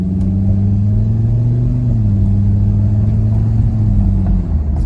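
A Volvo V70R wagon pulls away gently from a stop sign in a residential neighborhood, its engine giving a steady, loud, close low drone that rises slightly in pitch and then settles, with no voices.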